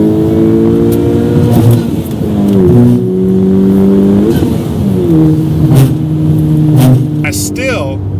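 A Honda Civic Type R with an aftermarket inlet pipe revs and accelerates hard, its pitch climbing and dropping through gear changes, loud and close, with a voice talking over it.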